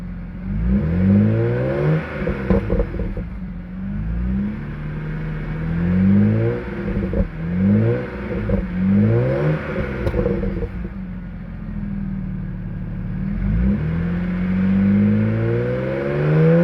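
Parked BMW with an N54 engine and a burble tune revving repeatedly, each loud close blip falling back into a crackling, popping burble before the next rise.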